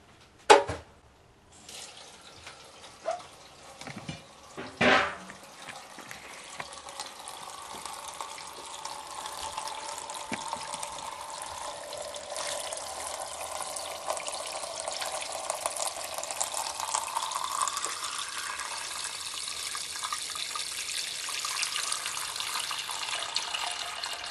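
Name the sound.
cold tap water running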